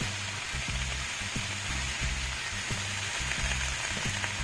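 Cabbage fries in a pot with a steady, soft sizzle and crackle, while a regular low thumping pattern repeats underneath, without any voices.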